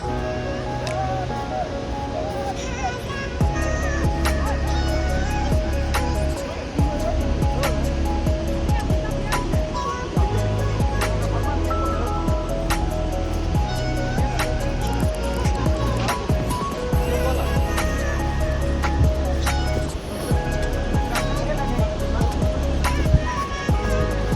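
Phe Phe waterfall in Meghalaya, a steady loud roar of falling water that fills the whole stretch, with faint voices of visitors now and then underneath.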